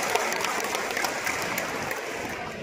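A school assembly audience claps in welcome for a guest, a continuous dense patter of many hands at moderate distance, steady throughout with no speech.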